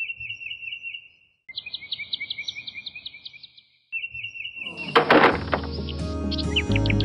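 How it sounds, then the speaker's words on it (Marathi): Birds chirping among dense planted trees, repeated bright high tweets in rhythmic series, close and clear, with a sudden burst of mixed noise and overlapping calls toward the end. "एवढे पक्षी येतात ना की तुम्ही पाहिलं सगळं चिवचिव सगळीकडे चालू आहे बघा सगळीकडे"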